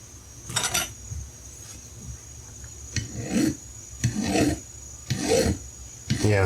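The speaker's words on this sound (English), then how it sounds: "Got a couple of different files I can use." A hand file rasps across a part from an Echo PB-265L leaf blower clamped in a small hand vise, in five or six distinct scraping bursts with short pauses between, close and fairly loud with no talk.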